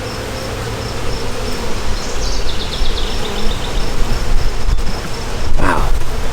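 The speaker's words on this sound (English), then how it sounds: "Excuse me, little bees." Honey bees buzz around a hive frame being inspected during queen marking, a dense, loud, continuous drone with a few passing higher whines close by.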